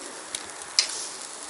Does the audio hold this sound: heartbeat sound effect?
no